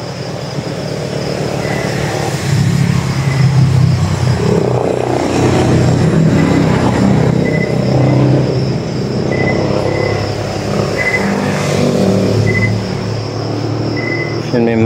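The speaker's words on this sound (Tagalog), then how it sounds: "may marinig talaga tayong mga tunog ng mga motor guys or sasakyan kasi nga hindi ito masyadong kalayuan sa ano, sa highway guys" Motorcycles and cars pass on a nearby highway, a steady rumbling engine drone that swells and fades at moderate distance, heard from inside an abandoned church, with faint chirping and scattered voices now and then.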